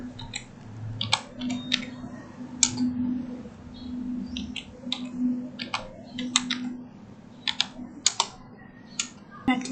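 Computer keyboard typing at a desk, an IP address being keyed in, with irregular bursts of close, crisp key clicks over a steady low hum, no talking.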